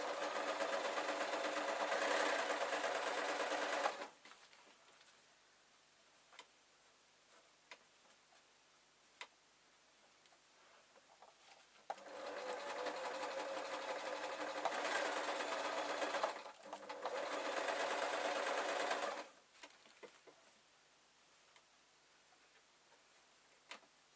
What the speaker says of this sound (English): all I'm going to do is sew for a bit and fold for a bit